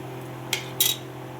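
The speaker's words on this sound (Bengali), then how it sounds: "দেখো আমি 10 মিনিট পর এটা খুললাম ঢাকাটা" The lid of a cooking pot holding cauliflower comes off with two short metallic clinks, the second one brighter, over a quiet kitchen hum.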